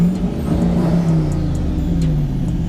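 A turbo V8 car engine revving, a loud, close, steady roar with a strong low throb that holds for a few seconds.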